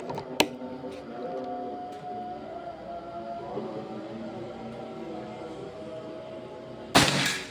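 A Predator Pajero Gun Gen 6 air rifle fires during an accuracy test, giving one abrupt sharp crack near the end after a quieter stretch with a faint tap early on.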